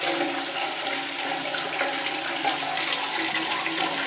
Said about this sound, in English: when you want to flush the toilet